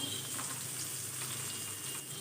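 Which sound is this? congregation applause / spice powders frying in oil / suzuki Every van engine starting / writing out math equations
spice powders frying in oil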